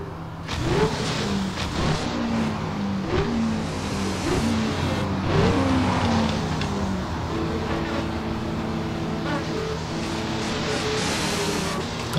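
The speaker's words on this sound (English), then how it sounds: "let me drive the Lambo if I like it" A Lamborghini's engine revs and accelerates steadily for the whole stretch, a loud continuous drone with rising and falling pitch sweeps, heard up close with no talking over it.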